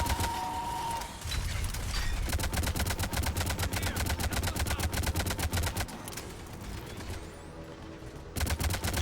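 A Harvester in Mass Effect 3 fires on Turian troops, rapid rhythmic bursts of heavy automatic weapon fire hammering almost continuously for several seconds, loud and close, with a brief pause before another burst.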